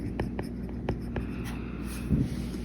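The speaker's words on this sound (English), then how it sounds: "using your Apple Pen, you can write on this directly" An Apple Pencil writes on an iPad screen in the Notability app, a run of quick, light plastic taps and short scratchy strokes close by, ending in a slightly heavier scrape, with no voices.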